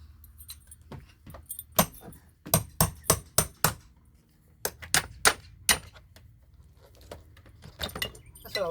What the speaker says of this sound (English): I can always beat on cat's paw with this part of the hammer and not have to be real accurate